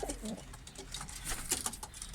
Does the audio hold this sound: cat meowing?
no